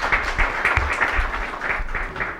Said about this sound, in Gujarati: એમને તાળીઓથી વધાવી દો.